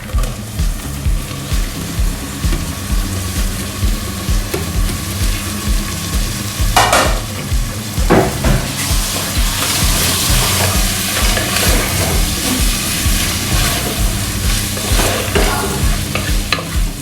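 Onions and tomatoes sautéed and stirred in a pan for dum chicken biryani, with a continuous loud sizzle and regular rhythmic scraping strokes of a spoon throughout, with no talking.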